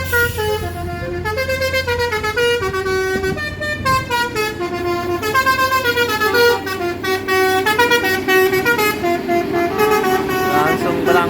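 Buses honk over and over at a busy bus terminal in a rapid musical horn pattern that runs continuously and loud, with a low engine rumble beneath and some voices.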